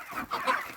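Chickens on a poultry farm give a brief, close burst of clucking with no voices over it.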